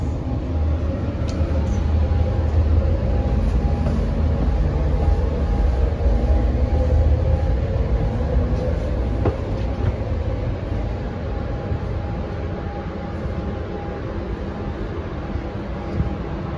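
Interior of an Amtrak Pacific Surfliner passenger train at night, a steady low rumble and rail roar throughout with faint clicks and rattles, continuous and fairly loud with no talk.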